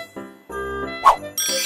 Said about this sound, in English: Christmas bells.